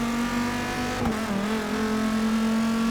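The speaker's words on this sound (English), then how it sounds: "Going around the outside of PTG Ducky right there on lap 3" A race car engine in the Forza 6 video game, a GT3 Cup car lapping Road America, drones at a steady high pitch, dipping briefly as it shifts, loud and continuous with no talk.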